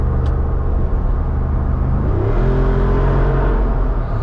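A 2024 Jeep Wrangler 392 Final Edition with its HEMI V8 cruising on the highway, a loud, steady low rumble and drone heard from inside the cabin, its pitch shifting slightly midway with road roar underneath, no voices.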